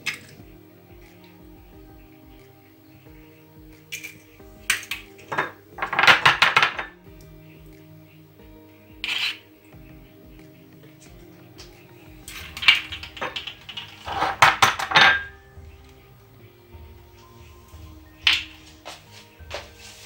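Eggs cracked and whites separated from yolks into a bowl for a lemon chocolate frozen biscuit dessert: two bursts of sharp shell taps and wet slipping sounds, close and clear, with small clicks and quiet kitchen gaps between.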